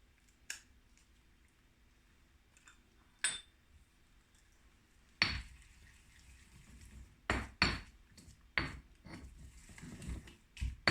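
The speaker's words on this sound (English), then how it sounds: "you really want to give it a good mix and get everything nicely incorporated into your paste" Tomato paste being stirred and mixed into curry paste in a pot or mortar, with sharp scattered clicks and scrapes of a utensil against the vessel, irregular and close, over a quiet background.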